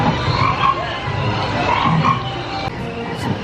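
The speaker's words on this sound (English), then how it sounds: "look at all the pumpkin frogs and hear them ribbiting" A pumpkin frog display at a nighttime pumpkin festival plays repeated croaking calls, a scattered chorus of ribbits under crowd noise.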